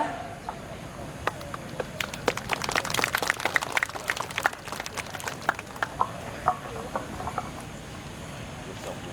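Crowd applause at a village ceremony honouring King Rama I, a burst of scattered clapping that swells and thins out over several seconds, moderately distant, with some voices mixed in.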